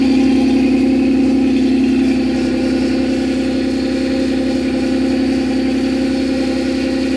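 A car engine idles with a loud welded-on muffler, giving a close, steady, droning exhaust rumble that holds evenly throughout with no talking.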